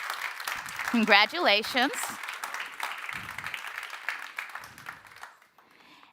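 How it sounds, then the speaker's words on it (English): A crowd at a mentoring alumni celebration applauds steadily for several seconds while a voice speaks over the clapping, then the applause thins and fades out. "Please give them all a round of applause."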